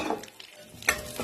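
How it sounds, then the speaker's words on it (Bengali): Dried red chilli and white cumin seeds tempering in hot oil for a Bengali lau chingri, a brief, close, bright sizzle with a stirring scrape. "এবার ওই তেলেতেই আমি দিয়ে দেবো একটা শুকনো লঙ্কা ফোড়ন। শুকনো লঙ্কা ফোড়নটা দেওয়ার পরে দিয়ে দেবো সাদা জিরে।"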